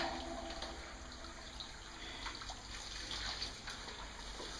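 Water running off a gold pan during outdoor prospecting on concrete, a soft continuous trickle and splash with faint scattered drips, quiet and alone without talk.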